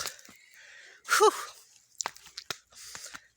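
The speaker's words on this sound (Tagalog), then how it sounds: "Ang hingal." An older woman pants heavily on a mountain climb: faint breaths first, then a strong wheezing gasp, followed by a series of short, sharp breaths close to the mic.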